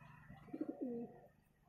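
A female green pigeon gives a short, quiet coo: a few soft pulsed notes followed by a drawn-out rolling tone, with near silence before and after.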